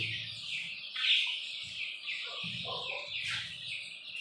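Young pigeon chicks call inside a coop with a continuous faint, high-pitched peeping and squeaking, with a soft low rumble underneath and no talking.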